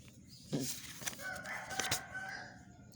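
A person imitates a rooster crowing once, fairly close and loud, the call rising and drawn out over a couple of seconds with a faint background.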